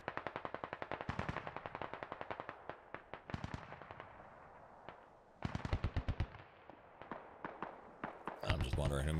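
Rapid automatic gunfire in the military shooter Squad, long bursts of sharp shots that stop and restart, loud and close, with a heavier blast near the end and talk in between.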